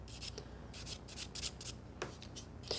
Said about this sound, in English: You can also hear it under your file and feel it when you're working on the natural nail.